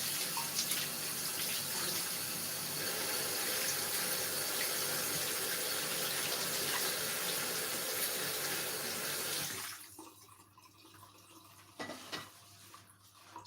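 Basil leaves washed under a running kitchen tap, water splashing steadily into the sink for about ten seconds before the flow stops, leaving a few faint drips and handling sounds.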